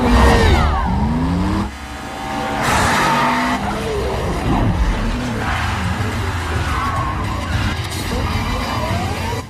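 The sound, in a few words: cars racing and skidding in Fast and Furious 2 movie race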